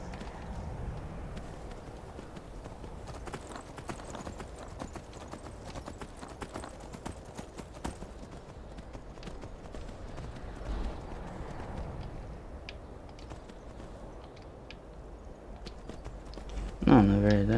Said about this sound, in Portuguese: Vamos galopando mesmo, cavalo.